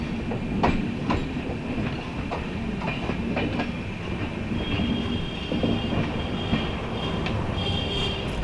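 Train running on rails through orchard country as it nears Kakori station, a continuous rumble with rhythmic clickety-clack of wheels and faint metallic squeals, heard from inside the carriage without speech.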